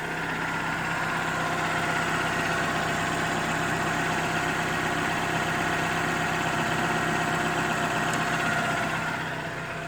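A Toyota Camry engine idles steadily after a fuel filter change, a low even hum with a faint vibration running unbroken at moderate distance, no talking.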